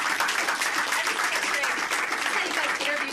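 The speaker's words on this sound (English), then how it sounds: "Give a round of applause." A room of listeners applauds the speaker after a talk, a steady dense patter of clapping throughout with faint voices mixed underneath.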